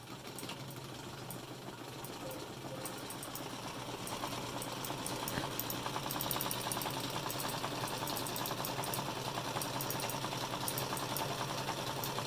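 Sewing machine stitching fabric for a handmade gnome, a steady fast mechanical whir and rapid needle clatter that holds for the whole stretch, growing slightly louder midway, close and without speech.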